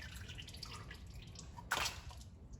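Engine oil dripping from a 2011 Toyota Corolla during an oil change, faint irregular drips over a low background, with one brighter splash near the end.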